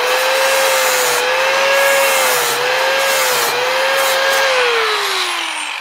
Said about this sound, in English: So I'm going to buff these down just a little bit